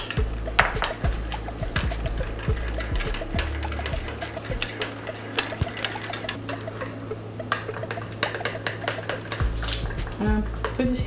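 Cold sauce with lemon juice and pili-pili chili being stirred in a bowl, giving a busy run of close clicks and utensil scrapes against the bowl, with some low background rumble.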